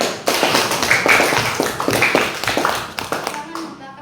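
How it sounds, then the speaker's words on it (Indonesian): Hand clapping rings out in a classroom lesson, loud, close and irregular, sharp claps scattered through the clip with voices mixed in underneath. "Tepuk tangan."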